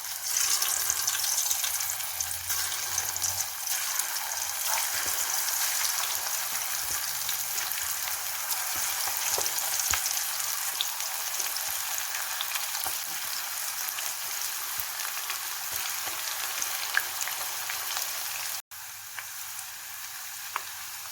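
Taro (chamadumpa) chip slices fry in oil over a medium flame, giving a steady, loud, broadband hiss that holds throughout, dropping off sharply for a moment near the end before resuming.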